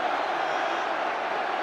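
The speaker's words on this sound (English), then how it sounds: "Play for the crowd is the call from the crowd" A rugby crowd at an England versus South Africa match keeps up a dense, steady roar of massed voices, heard from a distance without a break.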